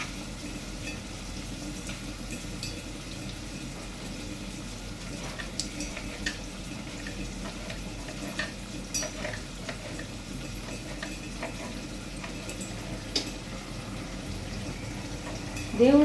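Onion pieces softening in a pan for ridge gourd curry give a faint, steady sizzle and frying hiss, with light stirring clicks scattered throughout and no speech.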